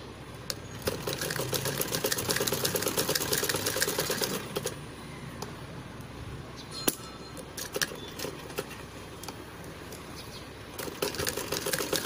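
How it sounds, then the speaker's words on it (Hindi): Sewing machine running in steady bursts while double-stitching seams on a baby frock, with fairly continuous whirring broken by short pauses and small clicks, fairly close. "इस पे भी आप दो डबल स्टिचिंग करें, एक इस साइड में और एक इस साइड में।"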